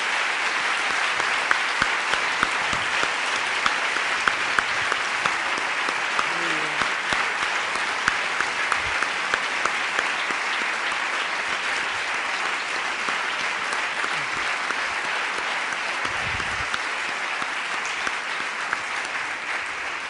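An audience at a justice-related event applauds loudly and steadily, sustained dense clapping filling the whole stretch without pause.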